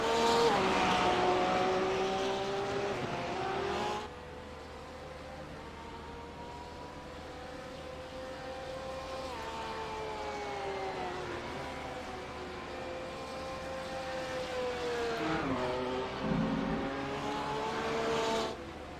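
GT3 race cars racing at Phillip Island, engines whining and rising in pitch as they accelerate and shift, with cars sweeping past near the start and again near the end, fading into steady distant engine noise between.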